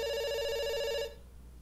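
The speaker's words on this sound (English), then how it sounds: "It's ringing." A telephone rings in the video game Dr. Langeskov, The Tiger, and The Terribly Cursed Emerald: one bright electronic ring that stops abruptly, leaving quiet room tone.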